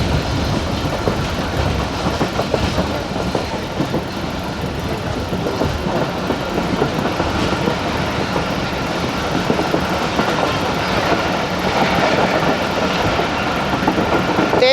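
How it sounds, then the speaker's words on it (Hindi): A fast train passing Kharian cantonment at about 100 km/h, a loud continuous rumble with rhythmic clickety-clack of wheels over rail joints throughout, no voices. "100 की स्पीड पे गुजर गई ट्रेन, गुजर गया है खारियाँ।"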